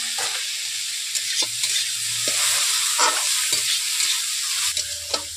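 Chopped okra and tomato fry in a pan with a continuous close hiss and sizzle, broken by intermittent scraping stirs and soft clicks of the spatula.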